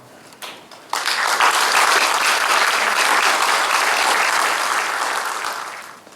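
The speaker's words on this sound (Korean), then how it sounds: "강사님 나오실 때 뜨겁게 박수로서 환영 부탁드립니다" A large church gathering gives warm applause to welcome a speaker, thick crowd clapping that swells after a few scattered claps, stays full for several seconds, then begins to fade.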